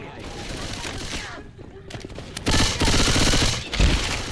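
Rapid pistol gunfire in the video game Left 4 Dead 2, dense bursts of shots over game noise and loud action, with voices shouting over the fire.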